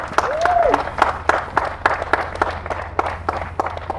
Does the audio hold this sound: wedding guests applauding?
yes